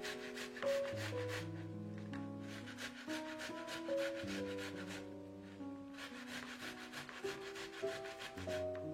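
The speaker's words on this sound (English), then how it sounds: "I grate tomatoes." Fresh tomatoes grated by hand, making repeated rhythmic rasping strokes over steady background music.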